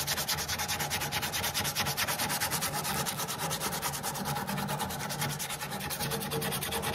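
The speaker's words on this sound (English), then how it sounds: "Sandpaper." Sandpaper rubs back and forth over the rounded wooden cabinet of a badly damaged crank-style phonograph, in steady rapid strokes that are close and continuous, with no voices.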